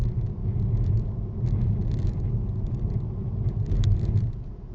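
A car rumbles along a road nearby, its engine and tire noise a steady low drone that swells slightly before fading, with no voices over it.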